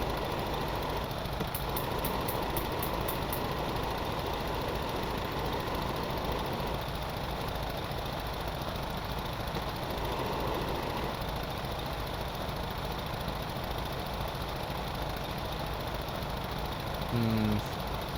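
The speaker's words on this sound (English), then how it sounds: "let's see what we can do about fixing this large engine" A large engine runs in the Stormworks video game, a steady, loud, low droning rumble that continues unbroken throughout, with a few faint clicks early on.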